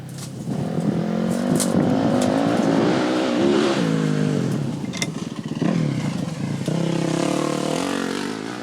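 A factory KTM cross-country motorcycle at a national cross-country race revs and races nearby, its engine note climbing and dropping through gear changes with loud, continuous roaring and brief clattering bursts.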